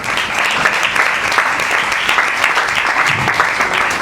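An audience at an Urdu lecture applauds steadily, a dense wash of hand claps that stays loud and even throughout, with no speech over it.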